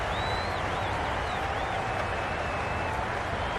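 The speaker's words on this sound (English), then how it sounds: "Will you listen to the crowd? They are loving it." Cricket stadium crowd roaring after a big shot, a dense constant wall of cheering and applause with whistles cutting through above, loud and unbroken.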